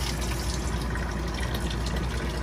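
Steady rush of water running from a tap inside a Coachmen Beyond RV, continuous and fairly close with no voices over it.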